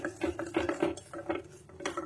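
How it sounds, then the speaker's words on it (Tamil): A spoon scrapes through thick badam burfi mixture of almonds and ghee in a pan, giving a steady rhythm of close, soft scraping strokes with light metallic clinks and no talking. "ஒரு 1 மினிட் நம்ம கிளறி விடுவோம்"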